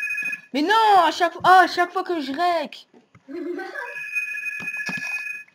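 A telephone rings with a bright, steady electronic tone, heard briefly at the start and again near the end, while someone talks in French over it during an online multiplayer game session.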